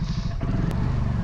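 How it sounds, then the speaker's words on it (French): A BSA Gold Star single-cylinder motorcycle engine thumping and popping nearby, a steady low rumble with one sharp crackle partway through. "Avec ce bruit du mono,"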